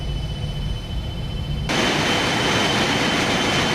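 Fokker 28 jet engines wind up to takeoff power in a flight simulator game: a steady engine drone that jumps abruptly into a loud, broadband roar and holds there.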